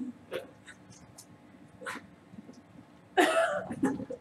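A dog barks in a guessing-game round, a few short scattered yips and barks, faint at first, then a louder, closer burst of barking near the end.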